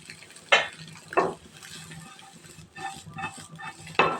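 Chicken meat and egg fry in a pan with a low, steady sizzle, while a utensil stirs and scrapes against the pan in four or five sharp, separate strokes, with no talking.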